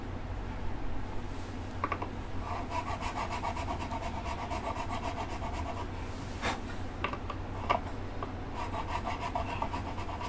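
A 20 gauge nut file rasps back and forth in the nut slot of an acoustic guitar on a workbench, giving steady, close scraping strokes with a few sharper scratches, with no talking.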